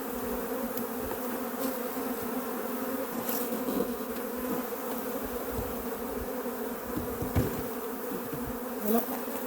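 Bees buzzing close by in a continuous, droning hum with small sharp peaks as individual insects pass near.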